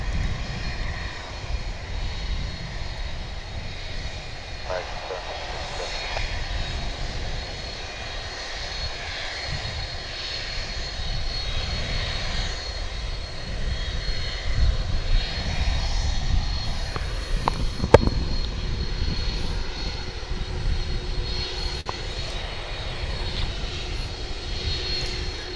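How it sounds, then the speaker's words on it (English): An MD-11 jet airliner's engines roar at DFW airport, a steady broadband rumble from a moderate distance that swells gradually across about twenty-five seconds, with no talk. "And here comes the MD-11."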